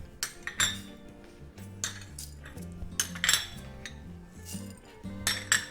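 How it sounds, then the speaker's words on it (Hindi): Whole spices for homemade korma masala clatter into a bowl in a run of sharp clinks and rattles, some louder, some softer, with no talking. "मैं सारे मसाले एक बोल में डाल के इनको सबको आपस में मिक्स करके और फिर इसको ग्राइंड कर लेंगे"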